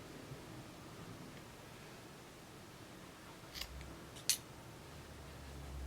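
Scissors snip through yarn after a finished crochet chain on a small crocheted poppy, two quick faint cuts close by against a quiet hiss.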